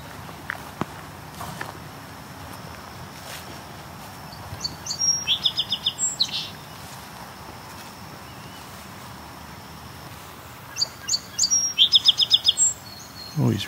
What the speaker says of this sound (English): It's a song sparrow.